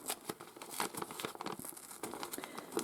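Paper torn by hand for a mixed media journal, with close crinkling and ripping bursts that come in irregular short snatches, some louder than others.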